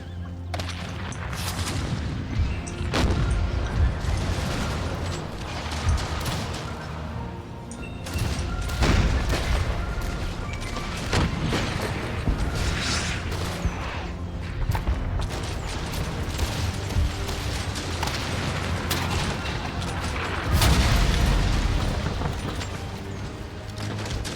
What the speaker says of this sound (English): By all means, just keep firing your cannons.